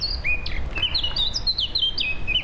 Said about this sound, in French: Cet oiseau est très chantant ce matin.